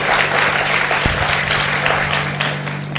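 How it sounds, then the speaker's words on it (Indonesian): A church congregation applauds in praise of Jesus, a dense, sustained wash of clapping from many hands that fills the room steadily throughout. "Berikan tepuk tangan bagi Tuhan Yesus"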